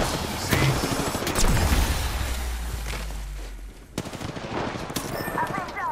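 Rapid automatic gunfire bursts in the Apex Legends battle royale game, loud, close and continuous over several seconds, with scattered distant shots and faint voices underneath.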